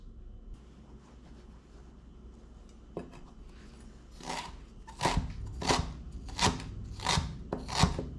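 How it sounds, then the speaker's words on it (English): Knife cutting two medium carrots into strips, a quiet stretch followed by a series of about eight crisp, evenly spaced chopping strokes close by. "you can just basically kind of cut the strips to length and however you want to fit into your roll"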